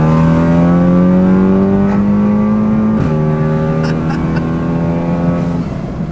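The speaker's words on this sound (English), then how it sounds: "I had to rev it out for you." A Volkswagen Golf R engine revs hard while accelerating, with a loud, close rising drone and an upshift near the middle before the pitch climbs again. No one talks.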